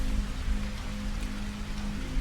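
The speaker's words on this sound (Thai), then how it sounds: "เวลาผ่านไปจนตกค่ำฝนไม่มีทีท่าว่าจะหยุดสักที มันกลับตกหนักขึ้นเรื่อย ๆ" Heavy rain pours down in a steady, dense hiss of drops on surfaces, constant and loud with no voices over it.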